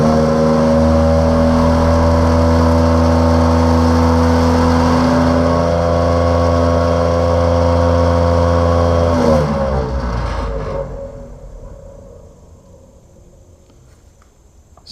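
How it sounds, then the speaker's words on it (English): A Wildgame Innovations game feeder motor spins in a timer test, a loud steady mechanical whir with harmonic hum that holds for about nine seconds, then winds down and stops into near silence. "So that is a 10-second duration spin. As you can tell, that would kick out a lot of feed."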